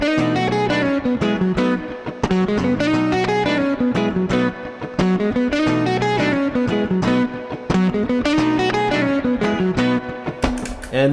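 A blues rock lick drawn from the major pentatonic scale plays on distorted electric guitar, a busy run of quick notes and bends, loud and continuous with no voices over it.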